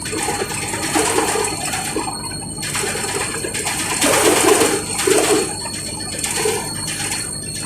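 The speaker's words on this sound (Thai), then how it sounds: "เป็นน้ำที่ได้ยินครับ" Broad rushing water pours steadily with surges and lulls, fairly close, while birds coo and call faintly in the background.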